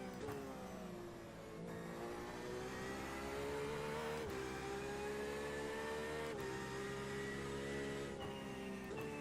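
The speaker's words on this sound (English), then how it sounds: "I love the sound of that Cadillac's naturally aspirated V8 from the far chase camera" A naturally aspirated Cadillac V8 race car in the iRacing sim at Road America, heard from a distant chase camera: a steady, loud engine drone with rising revs and brief dips at gear shifts, continuous throughout.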